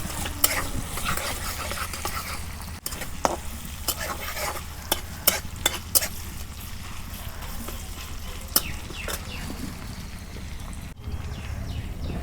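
Chopped onions frying in hot mustard oil in a pan for chicken bhuna, a steady close sizzle throughout with occasional scrapes and clinks of stirring.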